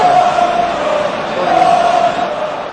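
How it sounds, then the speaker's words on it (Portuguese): A whole stadium crowd at a football match shouting together in a loud, sustained roar that swells and holds, with a chanting tone. "Isso aí é a torcida toda gritando."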